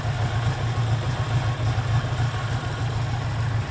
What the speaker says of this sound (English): Shaylin, listen to how low this bike idles